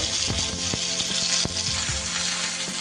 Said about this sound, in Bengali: খুব সাবধানে আস্তে আস্তে উল্টে পাল্টে কিন্তু মাছগুলো আমি ভেজে নিচ্ছি।